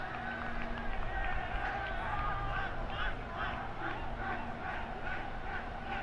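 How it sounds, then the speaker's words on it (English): A high school soccer team's bench cheers and shouts during a Don Bosco Prep versus St. Joseph's Regional match. The voices are faint and distant, blending into a steady crowd murmur with scattered yells. "A lot of cheering going on from St. Joe's bench."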